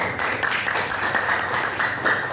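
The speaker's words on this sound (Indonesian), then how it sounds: "Tepuk tangan." An audience claps together during a motivational talk, a dense and steady burst of applause that stays loud and close throughout.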